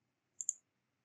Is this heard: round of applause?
no